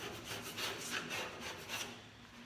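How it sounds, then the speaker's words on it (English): A razor knife's straight edge scrapes wax residue along stainless steel sidewalls, giving a steady run of rough rasping strokes, close and fairly loud, with no talk. "using the razor knife. And this cleans up stainless steel extremely well"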